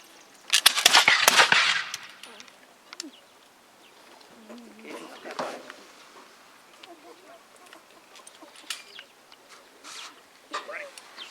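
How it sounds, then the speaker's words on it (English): A light infantry squad fires muskets at a fort demonstration: one loud, close volley cracks out early and trails off, followed by quieter clicks and handling sounds as a voice calls out. "Squad will commence light infantry firing."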